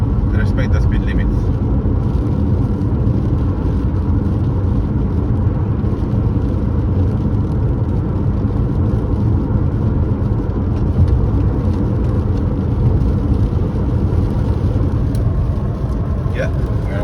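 A 2015 BMW 520D cruising at a steady 100 km/h on an express road, with a continuous loud low engine and road rumble from inside the cabin and constant tyre and wind noise, talk heard over it.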